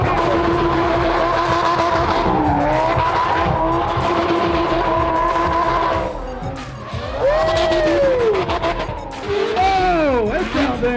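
Supercar engines at the 2021 SEMA Show in a busy hall, including Liberty Walk widebody builds, with loud sustained revving, crowd noise and tire-squeal-like chirps as revs climb and fall near the end.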